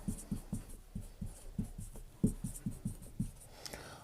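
Chalk or marker strokes on a board during a chemistry lesson on alcohols, a quick series of close, rhythmic tapping and scratching marks with brief pauses, no voices.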